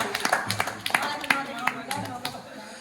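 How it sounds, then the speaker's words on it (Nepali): Scattered hand clapping from a small group at a farewell gathering, a loose run of claps and taps up close, with voices talking over it. "ताली ताली ताली ताली"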